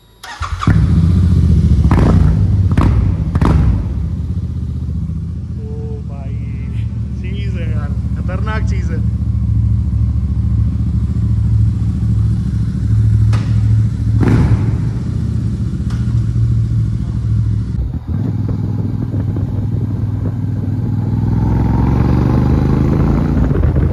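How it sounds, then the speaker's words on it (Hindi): A Royal Enfield Super Meteor 650 motorcycle engine rumbles loudly up close, blipping the throttle in several sharp revs before settling into a steady, throaty idle, with brief voices in the background. "क्या बाइक बनाई है यार, और इसका साइलेंसर। एक बार इसकी आवाज़ सुनाता हूँ मैं आपको।"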